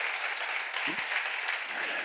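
A church congregation at a Korean seminar applauds, producing a steady, even wash of clapping that continues throughout without pause, with a brief low voice surfacing in the middle.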